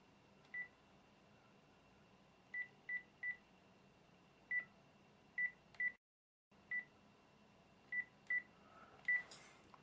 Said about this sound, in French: j'ai le téléphone, on va les appeler